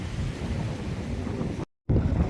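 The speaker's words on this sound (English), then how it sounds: "You see the wave action pushing through there." Waves push through the St Lucia river mouth in a steady rushing surge mixed with wind buffeting the microphone, briefly cutting out before the roar resumes.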